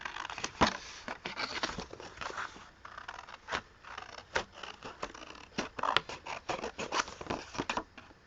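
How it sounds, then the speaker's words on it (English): Scissors snip through paper cut from a book, a run of crisp close clicks and slicing scrapes in an uneven rhythm, with soft paper rustles between cuts and no talk. "All right, let's cut this out."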